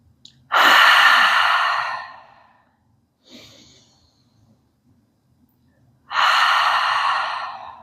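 Slow, deep breaths during a gentle chair yoga session: two long, loud airy exhalations about five seconds apart, with a fainter short breath between them, close to the listener and with no talking.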